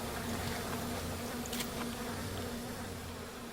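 Swarm of buzzing bees in BioShock, a continuous droning hum with a steady pitched tone, moderately faint and unbroken throughout.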